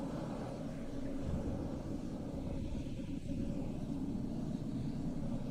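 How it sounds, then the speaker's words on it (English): A private jet gives off a steady, broad engine roar and rumble that holds constant throughout, heard from a distance with no talking. "Their private jet."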